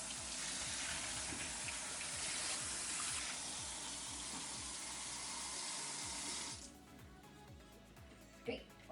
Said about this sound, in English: Always wash your fruits, your vegetables, everything